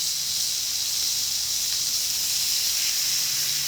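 Cubed bacon sizzles on a hot Camp Chef griddle, producing a steady, loud hiss with no break for nearly four seconds and no voices over it.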